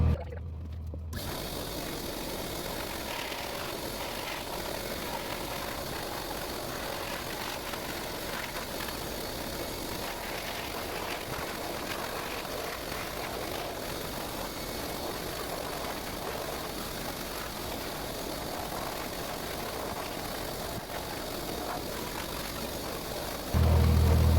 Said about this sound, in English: your groomer is using a high velocity dryer, and I'm going to use that here today